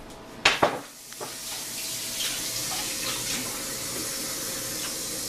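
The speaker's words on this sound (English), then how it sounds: "I'm just going to go wash my hands and get a little bit extra water." Tap water runs steadily into a kitchen sink for hand washing, starting after a couple of sharp knocks and continuing as a constant hiss with no talk.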